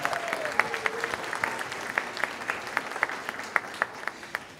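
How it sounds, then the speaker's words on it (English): Audience at an elementary school winter program applauds a young performer, a moderate patter of clapping with distinct claps popping out, a faint voice or tone briefly audible near the start. "Round of applause for Ana Sofia Vela."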